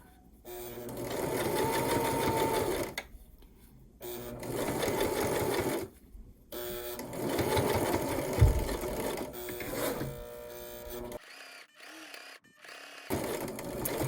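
Sewing machine stitching binding onto a fabric patch heart, running in several steady bursts of rapid mechanical chatter separated by short pauses, close and fairly quiet.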